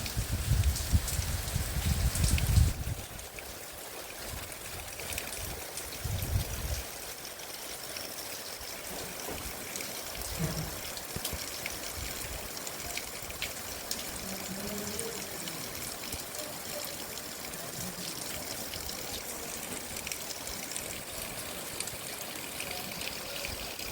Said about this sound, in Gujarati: ધીમી ધારે વરસાદ ચાલુ થઈ ગયો